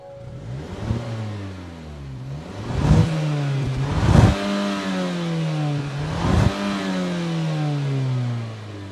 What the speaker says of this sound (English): All right, Tommy, you ready to rev the Mazda?